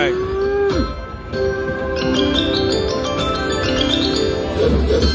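A loud, drawn-out synthetic cow moo from the 88 Fortunes slot video game rings out over a bright, continuous casino-style musical jingle, with the moo sliding downward in pitch before the chimes carry on.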